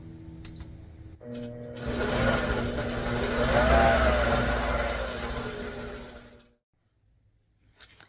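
A longarm quilting machine stitches binding onto a quilt, a steady close mechanical whirring hum with rhythmic needle clatter running for several seconds before stopping abruptly.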